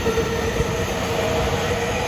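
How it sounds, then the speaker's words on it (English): A train passes close by in Fujisawa, Japan during the evening rush hour, a dense continuous rumble and roar of rolling wagons with faint wheel squeal, loud and steady throughout with no talking. "There's the train."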